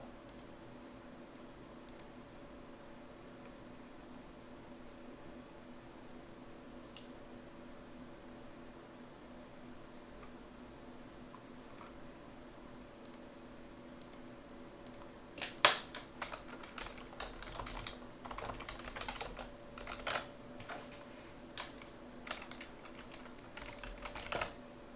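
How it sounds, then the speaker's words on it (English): Typing on a computer keyboard in an educational room: a low steady hum, then rapid bursts of key clicks that grow denser through the second half, with no talk. "Hey, Rob, I told you, start typing."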